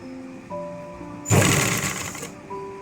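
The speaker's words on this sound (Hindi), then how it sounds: "रखने के बाद हम यहीं से सिलाई चलाएंगे" A sewing machine runs in one sustained burst of stitching on a designer kurti, loud and close for about a second, set between quieter stretches of background hum and tones.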